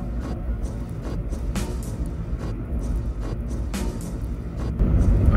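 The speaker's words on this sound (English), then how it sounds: "I'm driving to Bob's house now" A car drives along a road with a steady low engine and road rumble from inside the cabin, faint clicks and knocks on top, and the rumble swelling louder near the end.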